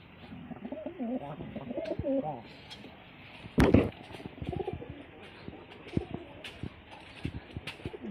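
Desi pigeons coo close by in soft, repeated calls, with a person talking over them and one sharp, loud knock partway through.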